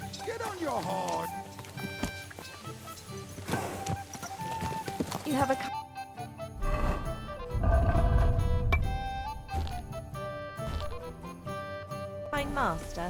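Rhythmic hoofbeats of a galloping horse in the video game Kingdom Come: Deliverance 2, under game music and sound effects, with a voice speaking briefly at the start.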